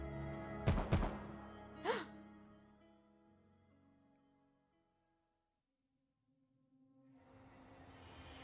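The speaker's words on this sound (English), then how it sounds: "Gunshots sound in the dark." Two sharp gunshots crack close together in a dark scene of the Path to Nowhere game, followed by a third fainter hit, then a long quiet fade before a low rumbling returns.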